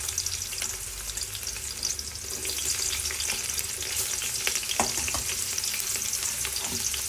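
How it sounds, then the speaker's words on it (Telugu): Thinly sliced onions fry in a mix of hot oil and ghee with a continuous, busy sizzle. Occasional stirring scrapes and clicks cut through the steady crackle, and no voice is heard. "కొంచెం నెయ్యి, కొంచెం ఆయిల్, అది కొంచెం కాగిన తర్వాత ఉల్లిపాయ వేసుకోవాలి"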